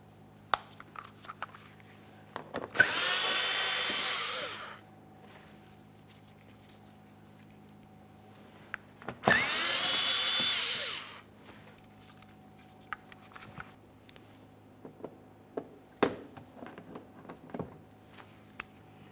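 Power tool spinning out 8mm headed mounting bolts from a 2014-2018 Mazda 3 bumper impact absorber, two loud whirring bursts of about two seconds each, separated by quiet clicks and handling of parts.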